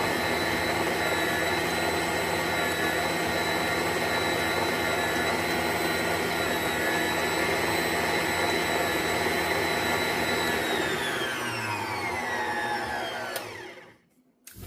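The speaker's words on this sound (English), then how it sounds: "We're going to mix this until it just gets kind of creamy and smooth" An electric hand mixer whirs steadily, beating muffin batter until creamy and smooth, then winds down and stops near the end; no talking over it.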